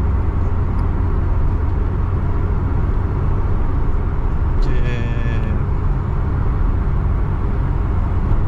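A Honda Civic 1600cc 160 PS out on a test drive fills the cabin with a loud, steady engine and road drone that never lets up, with a brief higher tone rising midway.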